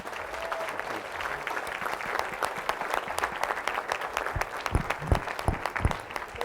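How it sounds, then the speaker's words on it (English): A standing audience applauds a speaker at a business event with dense, sustained clapping that holds steady throughout and swells slightly toward the end. "stand up and give a big round of applause to Steve Frazee."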